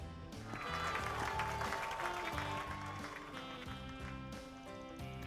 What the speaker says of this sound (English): President Grimhar sure know how to work up a crowd